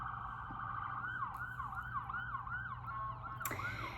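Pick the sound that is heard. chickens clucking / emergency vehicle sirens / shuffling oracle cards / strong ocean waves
emergency vehicle sirens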